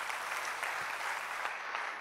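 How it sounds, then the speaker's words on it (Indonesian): Applause from a church congregation at a healing revival service, a steady crackle of many hands clapping continuously throughout at moderate distance, fairly even in level with no voices rising above it. "Beri tepuk tangan buat Tuhan"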